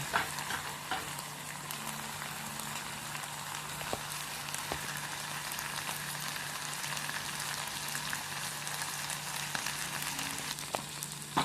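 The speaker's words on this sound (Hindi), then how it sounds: "अब ये सारी चीज़ें हम इसके अंदर डाल के अच्छी तरह भून लेते हैं इसको" Chicken tikka masala and spices frying in a pan give a steady, close sizzle with light stirring scrapes throughout, and no one talks.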